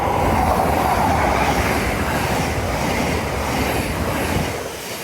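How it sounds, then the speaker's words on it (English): A freight train rumbles past nearby at Hatfield on the East Coast Main Line, a steady loud roar of wheels and carriages on the rails that eases off slightly near the end. "We've also got a freight train that's just behind us now."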